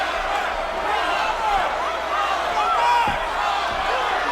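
Boxing arena crowd stirring and cheering during a fight between Crawford and Beltran, a dense roar of many voices with a few sharp thuds and rises, heard under a commentator's steady talk.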